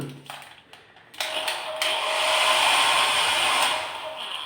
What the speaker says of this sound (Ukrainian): Ну і фен.